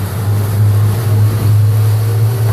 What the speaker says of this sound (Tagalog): Ayun na, maandar na yung motor.